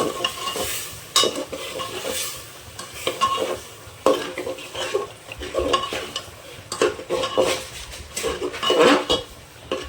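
Egg and potato curry being stirred and sautéed with a little water in a pan, a steady scraping, clattering stir with soft sizzling underneath, repeated in uneven bursts close by.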